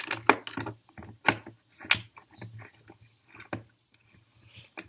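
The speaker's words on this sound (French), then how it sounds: "Ensuite, on prend sa clé Allen." An Allen key turns skateboard truck bolts, giving a series of sharp, close metallic clicks and ratcheting taps in an irregular rhythm, with short pauses between turns and no talking.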